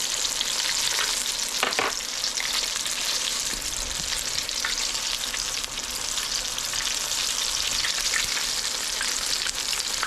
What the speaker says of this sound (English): deep fry. Don't take long when the oil's hot.